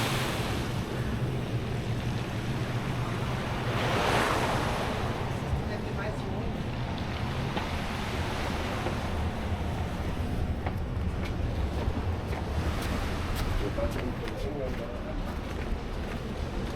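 Surf rolls onto the beach at La Caleta, Tenerife in a steady wash of noise, with wind buffeting the microphone and a faint murmur of voices in the background.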